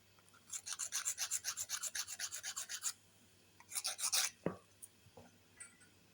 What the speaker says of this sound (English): This might be 200 wet sandpaper on an old emery board.